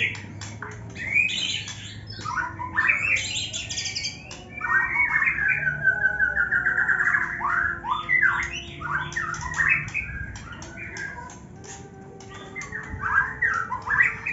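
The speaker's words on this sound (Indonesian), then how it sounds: "Murai batu katarak sudah kembali." A white-rumped shama (murai batu) sings loudly and close, a run of varied whistles, chirps and squawky phrases delivered in quick bursts with brief pauses over a faint low background hum.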